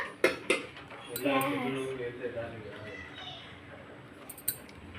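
A spoon clinks against a dish while scooping junnu, a set milk pudding. A few sharp metallic taps sound close by under a person's talk.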